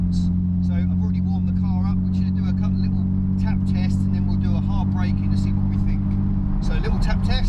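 Nissan 350Z with braided brake lines running at low speed during light brake tap tests, a steady engine drone and road rumble throughout while people talk in the cabin.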